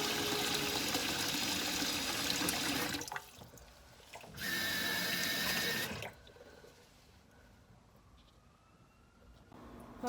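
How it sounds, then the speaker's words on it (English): Tap water runs hard into a pan to cover a salty corned beef, with two loud gushes separated by a brief pause, then a quieter trickle as the flow eases off. "fill it up with water till it's covered"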